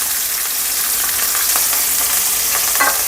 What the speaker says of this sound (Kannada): ಈಗ ಜೊತೆಗೆ ಕರಿಬೇವನ್ನು ಹಾಕೋತೀನಿ.